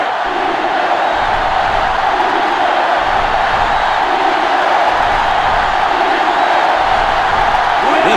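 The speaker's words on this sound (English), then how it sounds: "This crowd is almost shaking the stadium." A packed stadium crowd in the NCAA 06 video game roars continuously during a simulated 2005 Florida at Alabama football matchup, a loud, sustained wall of cheering and yelling that holds steady throughout.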